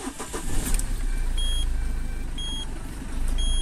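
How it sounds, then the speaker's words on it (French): A car engine cranks and catches, then settles into a steady idle close by, with a few short electronic beeps chiming over the running motor. "Je vais démarrer le véhicule."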